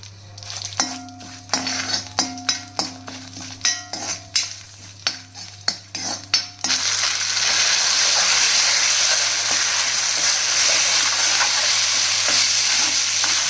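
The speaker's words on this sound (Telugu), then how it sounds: "4-5 ఎండుమిరపకాయలు, కొంచెం అంతా జీలకర్ర ఇవి వేసి వేగించాలండి" A utensil clinks and scrapes against a pan several times, then a loud, steady sizzle of dried red chilies and cumin frying in hot oil takes over.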